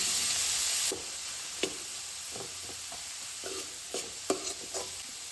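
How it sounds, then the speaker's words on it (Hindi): Onion and green chili frying in a pan over medium flame after cumin has crackled, a steady hiss with scattered stirring clicks and scrapes, close and moderately loud, no talk. "अभी हमें मीडियम फ्लेम पे 5 से 7 मिनट के लिए फ्राई करके लेना है"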